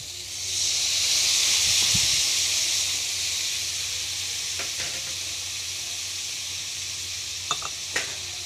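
Ginger-garlic paste added to a hot pan of masala for a chicken skin dish, a loud steady sizzle that rises as it goes in and then settles, with a couple of faint clicks from stirring.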